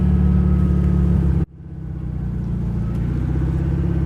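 A 1974 Volkswagen Thing with a swapped engine driving on the road, a loud, steady engine drone close by that drops off sharply as the throttle lifts, then builds back up.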